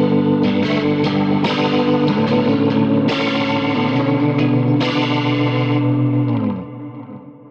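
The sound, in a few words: electric guitar through Walrus Audio Julia vibrato pedal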